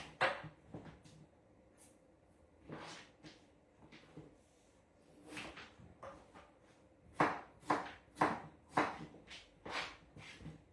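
A knife cuts food into smaller pieces on a board, giving soft, irregular taps that cluster into quicker rounds of chopping near the end, quiet and without talk.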